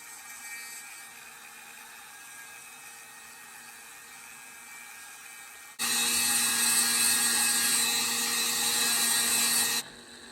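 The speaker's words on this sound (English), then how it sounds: "Now I have swapped over to a smaller burr, and I will set it in one of those established grooves" A rotary tool fitted with a small burr carves grooves into a dagger handle. A faint motor hum gives way to a loud, shrill whine while the burr bites in for about four seconds, then it drops back to a quiet hum.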